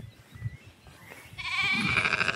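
Sheep bleat loudly and repeatedly, overlapping calls from several animals close by, after a quieter stretch of rustling and low background noise.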